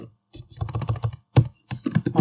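Fast, uneven bursts of computer keyboard keystrokes, close and crisp, with short pauses between clusters while Go code is typed.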